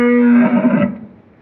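A calf on a dairy cattle farm in Dinajpur lets out a single loud, drawn-out moo lasting under a second, close by, then trails off into quiet.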